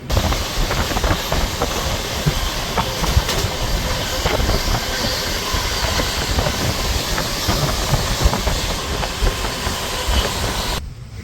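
A passenger train running on rails, heard as a continuous loud rumble with hissing and rhythmic clickety-clack of the wheels, steady throughout with no talking.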